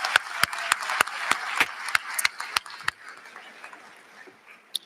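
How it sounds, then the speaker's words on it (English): Audience at a Norfolk State University freshman convocation claps in a scattered burst of sharp claps that thins out and fades to near quiet. "Would you please give them a round of applause?"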